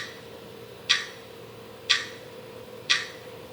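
Three evenly spaced clock-like ticks, about one per second, sound crisp and close from a white noise app over a faint steady hiss.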